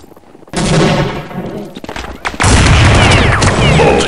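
Sniper rifle fire in Counter-Strike comes as loud, dense blasts that start abruptly, drop briefly, then surge into a sustained roar of gunfire.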